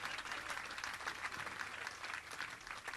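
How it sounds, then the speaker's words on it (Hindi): Steady applause from a large audience at a religious discourse gathering, continuous dense clapping held at an even level for the whole stretch. "उनके सौभाग्य की सराहना तालियों के करतल गणि से कर दीजिए"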